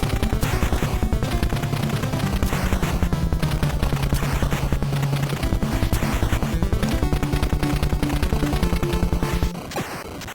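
Dense, rapid chiptune blasts and gunfire bursts from the NES game Jackal as a tank is bombarded and destroyed, a loud continuous barrage of sharp hits over game music that cuts out near the end.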